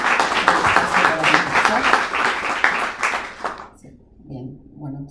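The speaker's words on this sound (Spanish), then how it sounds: "Le damos un aplauso y le agradecemos" Audience applause closing a book launch event, dense clapping from a crowd that runs steadily for about three and a half seconds before cutting off, followed by brief murmuring voices.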